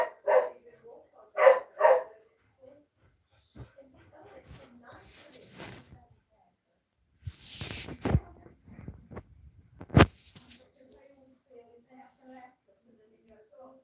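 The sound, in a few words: dog barking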